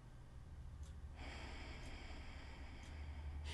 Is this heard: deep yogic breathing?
yes